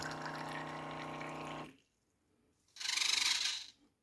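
Four-shot alcohol dispenser pumping liquid into shot glasses: a steady motor whir for about a second and a half, a pause, then a brief hissing pour before it stops, all quiet.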